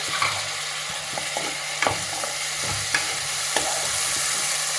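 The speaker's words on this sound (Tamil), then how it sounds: "வெங்காயம் வதங்கிடுச்சு தக்காளி போட்டு ரெண்டு தக்காளி" Tomatoes fry with already sautéed onions in a pan for mutton head curry, giving a steady sizzle with occasional scraping stirs, close and alone with no voices.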